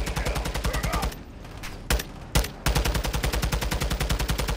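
Rapid automatic gunfire from Call of Duty game combat rattles in fast continuous bursts, breaks off for about a second with a few isolated shots, then resumes just as loud and steady.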